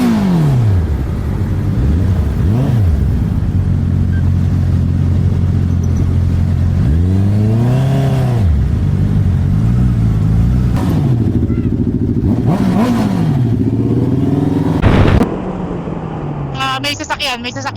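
A car engine hums steadily close by, rising and falling through several revs and gear changes, with people chatting throughout and a brief loud burst near the end.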